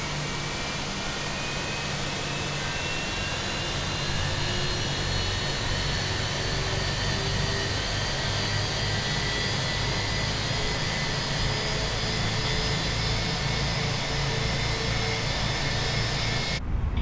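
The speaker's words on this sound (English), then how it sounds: "Starting engine 1." Airbus A321 jet engine spooling up in Flight Simulator 2020, a loud, steady broadband roar with a faint whine slowly rising in pitch, continuous throughout with no talking.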